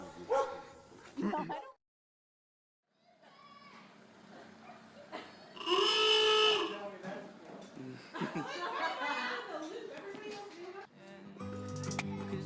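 A dog barks and yips in several loud bursts close by, mixed in with people talking and laughing.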